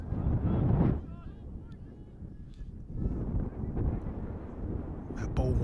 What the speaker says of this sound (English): Apologies for the wind. It really is a swirling wind.